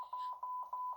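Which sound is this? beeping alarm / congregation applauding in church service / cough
beeping alarm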